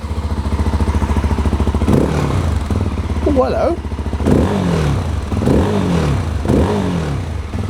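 A 2026 Rieju Rally 307 motorcycle engine idles with a raspy stainless steel exhaust throb, briefly revving; someone speaks a short greeting over it, up close.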